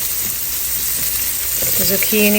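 Zucchini and other vegetables frying in a pan with a little spice, giving a steady close sizzle and crackle throughout, with a few brief clinks and a ringing tone near the end.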